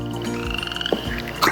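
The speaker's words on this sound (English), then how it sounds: "There's a frog out there." A frog croaks outdoors in a natural setting, a few loud, close, drawn-out croaks standing alone over a faint background.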